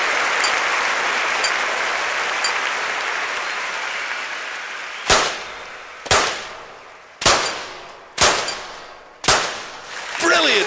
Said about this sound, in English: Simply brilliant, terrific shooting here.